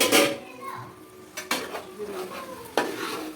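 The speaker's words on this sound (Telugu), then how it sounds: "మూత పెట్టేస్తున్నాను" A lid set onto a cooking pot of chicken biryani gives a sharp metallic clatter, with two more brief clinks of metal cookware following, close and moderately loud against a quiet kitchen background.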